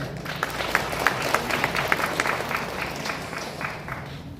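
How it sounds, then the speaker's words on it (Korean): Audience at a county governor's New Year village visit in Cheongyang claps together, a steady patter of individual hand claps of moderate loudness lasting several seconds, with a faint murmur in the room. "이런 데 박수 쳐주세요."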